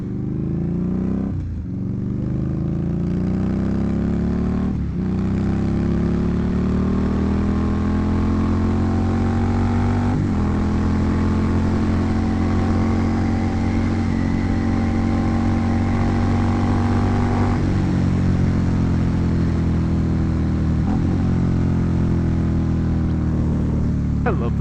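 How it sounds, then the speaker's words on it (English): A motorcycle engine drones steadily as the bike is ridden through the countryside, a loud continuous hum with gently rising and falling revs and a few small clunks. "I love this bike, man."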